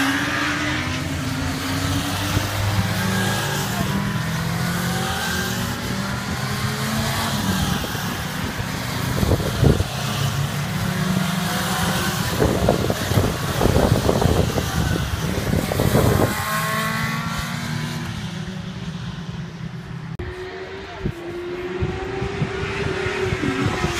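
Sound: motorbikes going past on a race track

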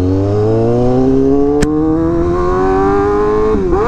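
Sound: Honda CBR Fireblade RR-R SP motorcycle engine revving

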